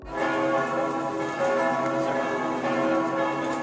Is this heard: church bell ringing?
yes